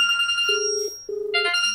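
A telephone rings indoors with a bright electronic tone that pulses in short repeated bursts, broken by a brief pause before the ring resumes, with no one speaking.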